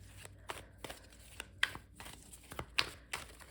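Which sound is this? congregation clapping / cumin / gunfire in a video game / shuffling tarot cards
shuffling tarot cards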